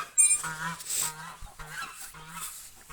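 Several geese honk repeatedly at close range, loud nasal calls in quick bursts, with a few brief noises between them.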